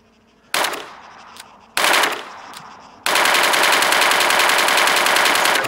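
G36 assault rifle fire in the military shooter game Arma 3, with two separate loud shots each followed by a ringing tail, then a sustained rapid automatic burst that stays at full volume and is not covered by any talking.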